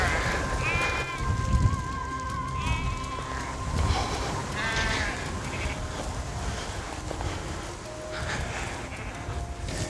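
A flock of sheep on a farm, fed turnips and supermarket waste, bleat repeatedly in several voices at close to middle distance, with steady outdoor background noise and brief talk.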